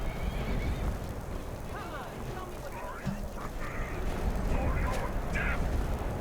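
A horse neighs and whinnies in Skyrim Special Edition amid a busy, noisy mix of game action sounds and scattered voices.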